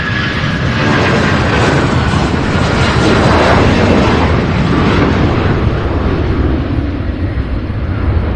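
A UPS cargo jet, flight 2930 bound for Santa Ana, climbing out of Louisville's UPS Worldport, a loud, full jet-engine roar that swells toward the middle and then slowly eases off.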